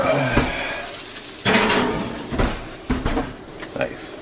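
Cast iron pan loaded with meatballs set into an oven, several sharp metallic clanks and knocks of the pan and oven door, with a voice talking between them.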